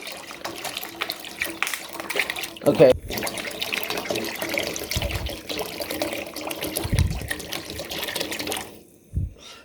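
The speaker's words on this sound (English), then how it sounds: "fill the pan up with halfway water" Tap water runs steadily into a cooking pan being filled halfway for boiling spaghetti noodles, a continuous close splashing stream that cuts off near the end, with a person speaking briefly over it.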